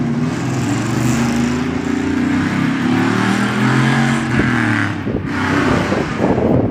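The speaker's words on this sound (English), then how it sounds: "I don't think I've ever even heard that car in here or seen it" A car engine running outside, a loud steady drone with shifting pitch as it revs, continuous and close throughout.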